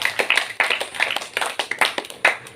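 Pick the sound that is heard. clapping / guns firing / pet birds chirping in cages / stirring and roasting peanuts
clapping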